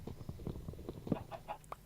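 Chickens in Minecraft clucking in a series of short, bouncy bursts close by, several birds overlapping in an uneven rhythm.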